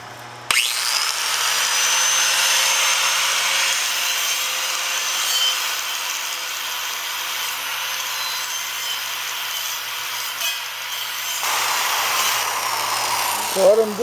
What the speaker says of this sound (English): is I'm brushing off all of the rust.